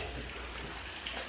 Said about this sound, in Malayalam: ഇന്നലെ രാത്രി 12 മണിയായപ്പോൾ തുടങ്ങിയ മഴ ഇപ്പോഴും കണ്ടിന്യൂസ് ആയിട്ട് പെയ്തുകൊണ്ടിരിക്കും